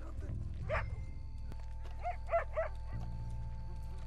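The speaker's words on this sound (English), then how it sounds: "It's just a dog." A dog in Red Dead Redemption 2 gives a few short barks and yips at moderate distance over a low ambient drone, with a brief pause between the first bark and a later cluster of three.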